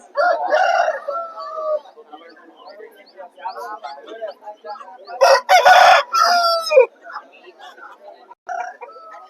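Roosters crow loudly and repeatedly at a busy rooster market in Vijayawada, with clucking fowl and chattering people around them and a narrator talking over much of the scene.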